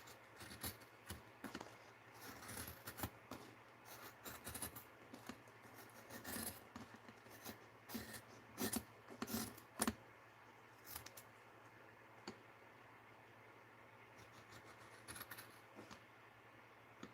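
Scissors cutting paper that is slick on one side, with the blades gummed up: repeated crisp snips and rasping cuts in uneven bursts, close and fairly quiet, with no voices.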